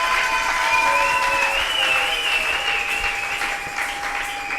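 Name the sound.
church congregation applauding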